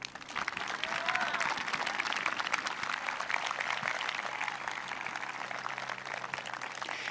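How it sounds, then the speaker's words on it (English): Steady applause from a large crowd at the Cherry Creek High School Class of 2018 graduation ceremony, sustained clapping that fills the whole stretch without letting up. "Seniors, please join me now in a round of applause for both your parents and the faculty and"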